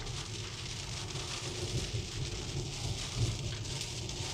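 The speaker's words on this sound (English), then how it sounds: "So the rain is coming down harder now" Steady rain falls on a Tesla car, a dense, even hiss with low rumbling patter throughout, close and fairly loud with no voices.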